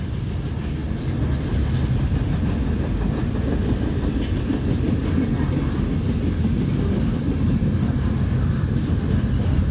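A northbound CSX mixed manifest freight train rolls steadily past on the track, a loud continuous rumble with rhythmic wheel clatter throughout and a faint high squeal.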